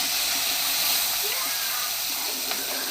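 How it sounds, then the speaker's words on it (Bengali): Pieces of katla fish frying in a wok for a cauliflower fish curry, a constant close hissing sizzle with a faint voice in the background. "প্রথমে মাছ একটা একটা করে কড়াইতে দিয়ে দিলাম ভাজা হওয়ার জন্য"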